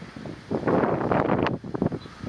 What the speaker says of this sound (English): And you can hear it's windy up there